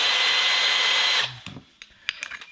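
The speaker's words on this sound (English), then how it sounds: "And then we want combi drill" A cordless combi drill whirs loudly for about a second, then stops; a few clicks and handling knocks follow.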